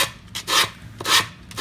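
Sandpaper rubbing back and forth on wooden shelf edge banding in three even strokes, each a close, raspy swish with short pauses between them.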